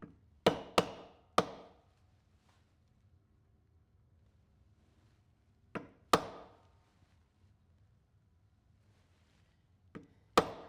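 A leather maul strikes a stamp on leather, giving sharp, close, loud knocks that come in quick pairs and triplets separated by silent pauses, with no talking.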